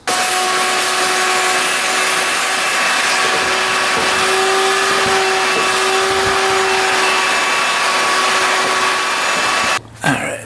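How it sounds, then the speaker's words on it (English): A vacuum cleaner drones loudly and steadily while clearing out the engine area of a cheap used 4x4 ATV, a continuous whine holding for about ten seconds before cutting off abruptly with a brief clatter. "once we vacuum that out, we can get to that plug"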